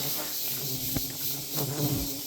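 Agitated Scaptotrigona tubuna stingless bees swarm defensively during a hive transfer, giving a close, continuous high buzzing drone with a few sharper passes, alone.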